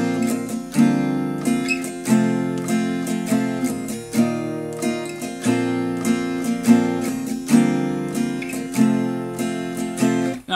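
Acoustic guitar strummed in a steady rhythmic pattern, bright repeated chord strokes with the chord change falling early on the down strum of beat four, played alone and close.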